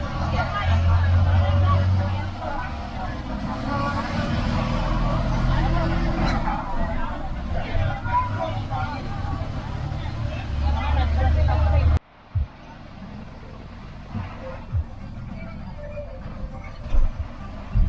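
A vehicle heading downhill through a pine forest near Kodaikanal: a steady engine and road rumble fills the cabin under a murmur of voices, then a cut leaves a quieter, sparser rumble with a few bumps.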